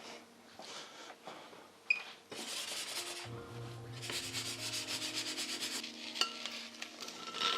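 Boiled potatoes tipped back into a hot pan to dry while making chicken fingers, giving a close scraping, rubbing clatter with a soft sizzle that builds after the first few seconds and runs steadily to the end.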